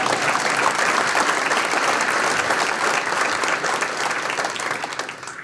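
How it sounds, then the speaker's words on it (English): Audience applause at an annual awards program hall, a full, loud burst of many people clapping that holds steady and then gradually tapers off toward the end. "That deserves a round of applause."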